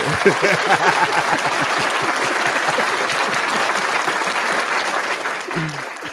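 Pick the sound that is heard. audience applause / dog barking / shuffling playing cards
audience applause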